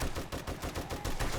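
Rapid automatic machine gun fire in the zombie survival game 7 Days To Die, a loud, dense stream of close shots with steady rhythm throughout.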